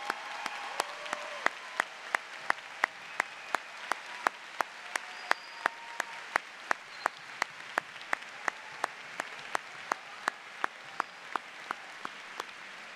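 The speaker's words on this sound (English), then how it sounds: "Let's give them a big round of applause." At a law school commencement ceremony, the audience applauds first responders and nurses: a soft bed of scattered clapping from the crowd, punctuated by sharp, regular claps close by, nearly one per second, running on without speech.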